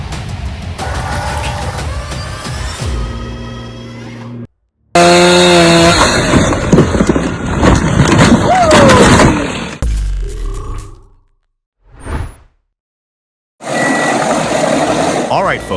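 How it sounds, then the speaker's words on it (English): A heavy-duty wood chipper shreds trees in loud, roaring bursts of grinding and crunching, broken by short pauses of near silence, with machinery noise filling most of the clip. "Witness the most dangerous, fastest monster wood chippers in action."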